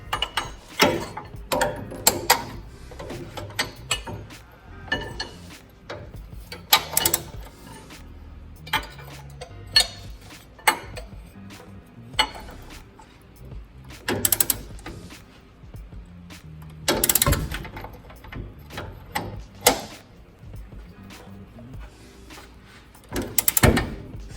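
Sharp ratcheting clicks from a torque wrench tightening a trailing arm bolt while fitting Whiteline bushings on a Mitsubishi Montero, with close, irregular bursts of mechanical clicking and clanking and no talk.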